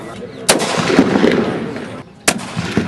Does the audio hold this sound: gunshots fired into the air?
yes